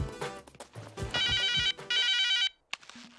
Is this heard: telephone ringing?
yes